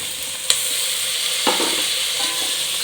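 Peas and tomato fry in hot oil with a loud, steady sizzle, broken by a sharp utensil tap and a scraping stir partway through.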